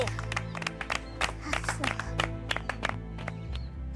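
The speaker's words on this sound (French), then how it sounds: "On peut applaudir Niluzi," An audience on a French celebrity reality show applauds contestant Nilusi, with a short burst of scattered, uneven clapping heard close.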